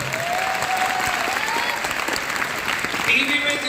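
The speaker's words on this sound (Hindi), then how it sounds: "इनके लिए जोरदार ताली बजाओ" Applause from an audience at an Arya Samaj devotional singing program, a steady dense clatter of clapping filling the whole stretch, with a voice faintly heard over it.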